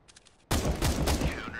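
Video game gunfire in a 1v1 match on impossible mode: a quiet patter of distant shots, then a sudden loud burst of rapid automatic fire close up with a ringing tail.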